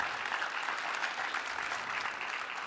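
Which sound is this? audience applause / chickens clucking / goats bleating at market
audience applause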